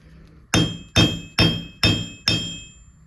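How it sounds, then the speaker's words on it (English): A hammer strikes a copper earring blank five times in a steady, even rhythm, each blow a sharp close metallic ring that fades quickly, with no talk. "Just hammer that out."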